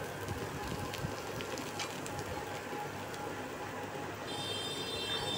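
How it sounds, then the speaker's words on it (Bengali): Water mixed with ground coriander and cumin paste is poured into a hot pan, giving a steady close sizzle and crackle with a faint high tone toward the end. "এই ধনে বাটা আর জিরে বাটা জলটা দিলাম।"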